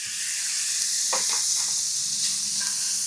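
Half a pound each of ground beef and bacon searing in a pan, a steady close sizzle with bursts of crackle and spatter, no talking.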